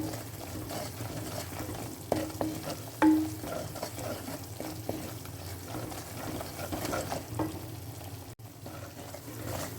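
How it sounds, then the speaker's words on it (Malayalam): Masala frying in a pan, sizzling steadily while a spoon scrapes and stirs it in irregular strokes, with an occasional sharper clink, heard close with no speech. "മസാല നന്നായി മൂക്കണം."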